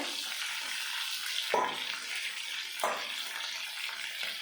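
Hilsa fish heads frying in oil as garlic is added, giving a steady close sizzle with two sharp bursts of louder crackling as the cloves hit the pan.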